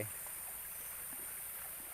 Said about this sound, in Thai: น้ำไหลล้นน้ำย่างไหลออก